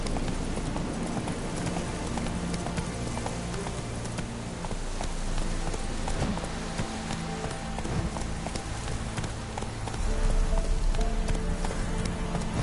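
Horse galloping in the Witcher 3 video game, a dense steady run of hoofbeats, near and continuous, with a mixed game soundscape behind.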